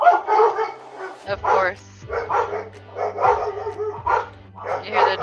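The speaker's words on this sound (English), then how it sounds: "You hear the dogs?" Dogs barking in short repeated bursts indoors nearby, loud yips and woofs alternating with people talking over them.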